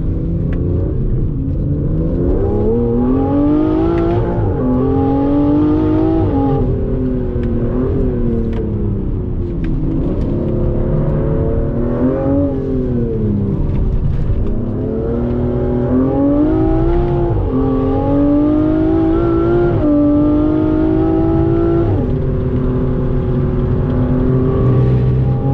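An Aston Martin sports car engine, either a Vanquish or a DB12 Coupe, revs loudly from inside the cabin while driving, its pitch rising and falling through repeated accelerations and gear changes over a deep constant rumble.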